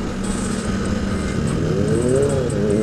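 Steady roar of a Kawasaki ZX motorcycle engine passing nearby amid road traffic, with a rising then falling engine tone partway through and continuous dense background noise.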